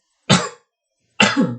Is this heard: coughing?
yes